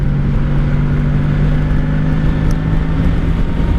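A 1984 Honda Sabre V65 VF1100S motorcycle rides along on its first spring ride after winter maintenance, its engine giving a steady, close, continuous drone mixed with wind rush, with no voices.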